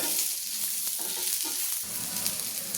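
Grated coconut and onion fry in hot oil for a Maharashtrian patvadi rassa masala, a steady broadband sizzle with a few soft stirring scrapes, close and continuous, no voices.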